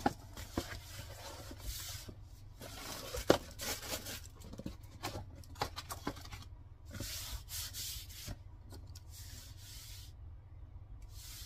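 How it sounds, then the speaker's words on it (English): Embroidery foam for 3D puff embroidery being cut up close, with repeated short rubbing and scraping strokes in uneven bursts over a low steady hum, no talking. "I'm going to go ahead and cut my foam."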